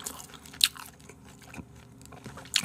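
Air-fried pork with lean meat and fat is chewed close to the mic, giving soft wet mastication with a few sharp crunchy bites spaced through the quiet.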